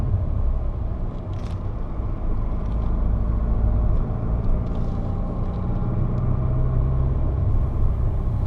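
A manual car climbing a steepening hill in second gear, its engine giving a loud, steady low rumble and drone that holds throughout with no talk.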